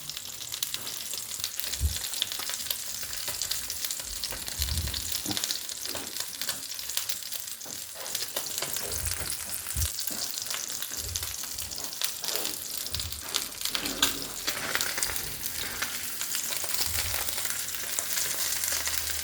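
Meat fat sizzling and crackling steadily in a frying pan, a continuous close hiss with scattered louder pops and spits throughout, no talking.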